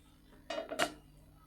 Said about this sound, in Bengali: উনানে বসিয়ে দিচ্ছি একটা কড়াই